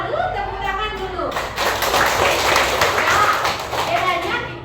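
A classroom audience claps together in a burst of hand clapping that rises after a speaker's prompt and continues for a few seconds, with some chatter and laughter mixed in.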